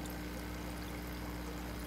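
Water from an aquarium hang-on-back filter outlet pours and trickles into a small tank, a close, continuous splashing flow with a low steady hum beneath.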